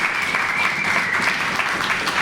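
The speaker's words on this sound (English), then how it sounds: "a round of applause for that one is in order." An audience at a community reading of Frederick Douglass in Holyoke, Massachusetts, gives a steady round of applause, a continuous wash of many hands clapping at even loudness throughout.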